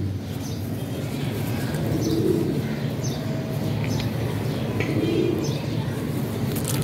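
Pigeons of the Neelay kamagar breed in a loft, soft low cooing rising twice over a steady murmur of background noise, with faint chirps and a voice talking quietly.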